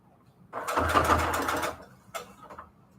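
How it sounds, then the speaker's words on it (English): Sewing machine running a straight stitch along fabric ruffles, one steady burst of close mechanical whirring for about a second, then a couple of brief stitches after a short pause. "I'm just using a good old straight stitch here."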